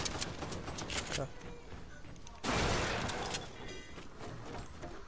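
Video game gunfire in bursts of rapid shots, with a louder, denser volley around the middle that trails off, while players talk over it throughout.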